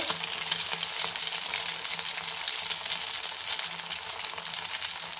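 Sabudana vada fry in hot oil until golden brown, making a steady, dense, close sizzle that holds at an even level throughout with no talk.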